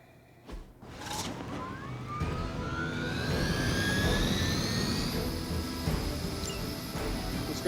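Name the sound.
helicopter escaping, from video game Marvel's Midnight Suns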